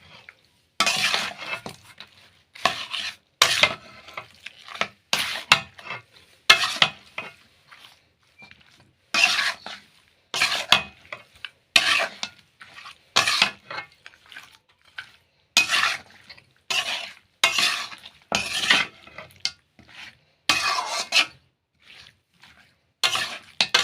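A utensil stirs and scrapes ingredients for a fish curry sautéing in a pan, producing repeated short clinking, scraping bursts in a steady rhythm, close and fairly loud, with no talking.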